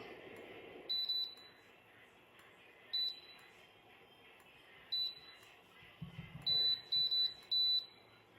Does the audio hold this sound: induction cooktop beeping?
yes